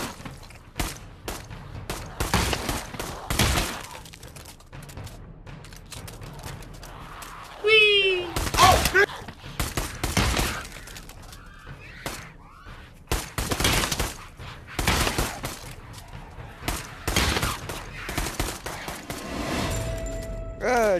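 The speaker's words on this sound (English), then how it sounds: "Junior, I shot you by accident." Pavlov VR zombies mode pistol gunfire: repeated sharp shots in quick bursts, near and loud, alternating with spoken voices throughout.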